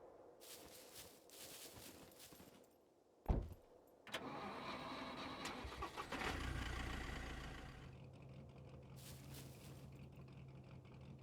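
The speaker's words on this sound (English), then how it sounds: "Do you want to get in my car and start it up?" A car engine in the survival game Scum cranks with a sharp jolt, catches and settles into a low steady idle that stays close and continuous, with a few fainter knocks and clicks earlier and no talk.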